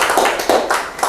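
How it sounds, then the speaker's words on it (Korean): Audience applause at an education talk event, a brief burst of many hands clapping in steady overlapping claps, close and loud. "박수 부탁드리겠습니다."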